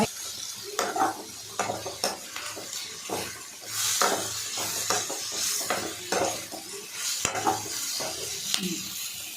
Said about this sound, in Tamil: நல்லா வதங்கட்டும். வதங்கிடுச்சு.